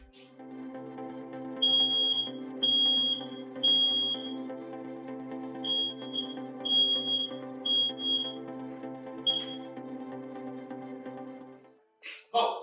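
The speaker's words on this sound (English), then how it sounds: "Now we're just gonna press the button to hear a beep." A smoke alarm sounds a series of shrill, evenly spaced test beeps, about eight in a row, over a low steady hum, ending with a brief clatter.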